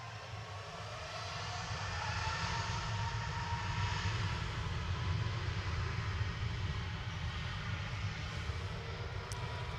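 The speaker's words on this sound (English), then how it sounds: "This is the 787-9 Dreamliner coming in from Shanghai with flight 1661." A Shenzhen Airlines Boeing 787-9 Dreamliner arrives at Manchester Airport, a low, distant engine rumble that builds over the first couple of seconds and then holds steady and faint, with no talking.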